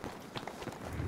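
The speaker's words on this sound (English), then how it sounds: "Hearing footsteps around me" Quick video game footsteps patter through a brief, busy stretch of gameplay noise, a few rapid steps close by and partly masked by the surrounding din.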